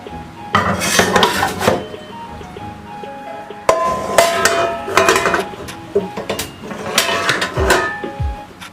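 Dishes, pots and pans being washed in an Indian home kitchen, with loud metallic clanks and cutlery rattles arriving in three busy bursts separated by brief quieter gaps, close and hard-edged.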